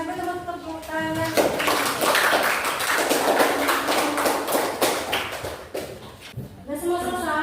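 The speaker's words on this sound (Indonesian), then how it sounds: "Terima kasih banyak tepuk tangan" Audience clapping at an Indonesian gathering, a dense patter of many hands sustained for several seconds, with talk at the start and end.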